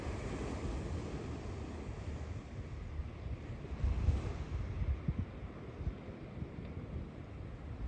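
Ocean waves roll onto the Malibu coastline in a faint, distant, continuous wash, with some wind rumble and a slight swell partway through, no voices.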